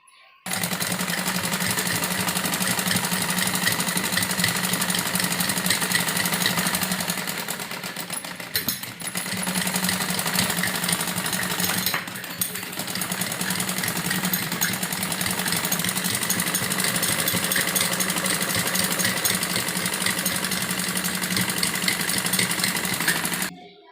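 A sewing machine stitching around a folded frock hem, a loud, fast, continuous mechanical whirr running close and steady, with two brief pauses around the middle before resuming.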